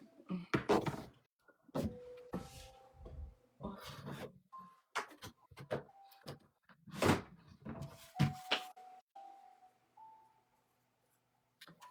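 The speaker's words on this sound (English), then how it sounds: "this drawer is never opening again" A stuck wooden drawer is yanked and shoved in a home, giving a series of loud irregular thumps, scrapes and rattles with squeaky sliding sounds between bursts, then quiet.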